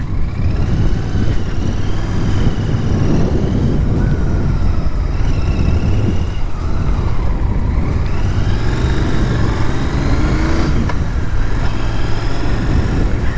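A Royal Enfield GT 650 motorcycle is ridden on the road, its engine droning steadily under heavy wind buffeting, with the engine pitch rising and falling through gear changes.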